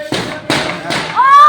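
Diwali fireworks outdoors, with three loud, sharp bursts spaced about half a second apart, each followed by a brief crackling tail, then a rising whistle like a rocket being launched.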